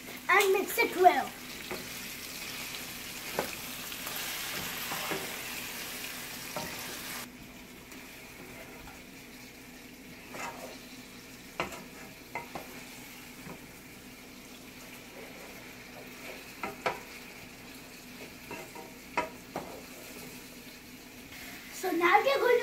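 A rice mixture fries and is stirred in a pan, with a faint steady sizzle and occasional scrapes and clinks of a spoon, fairly quiet throughout.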